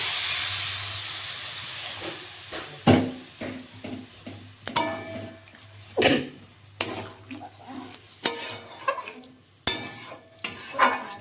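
Hot water poured into a potato curry (aloo dum) cooking in a pan sends up bursts of steam and hiss, broken by repeated stirring clatters and scrapes, close and uneven.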